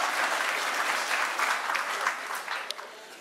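Listeners at a South African national budget speech break into broad, sustained applause that gradually thins and fades, with a voice surfacing near the end.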